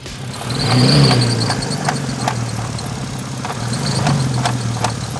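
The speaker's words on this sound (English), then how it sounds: "Almost sounds like bearings are failing inside of the trans." Grinding, whirring mechanical whine with rhythmic ticks and clicks from failing bearings inside the transmission of a Volkswagen R32, steady and close.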